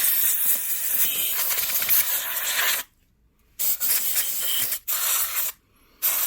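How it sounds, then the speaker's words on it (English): Compressed air duster spraying dust out of a PS4 fan, loud close hissing bursts separated by sudden silent gaps, a long blast followed by several shorter sprays. "you can buy it just from practically anywhere. Have a look, air dust remover, compressed air or something"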